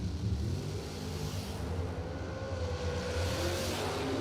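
Drag racing dragster engine roaring at XRP, Texas, a steady, dense, fairly loud drone that holds for several seconds, rising slightly in pitch toward the end, with no talk.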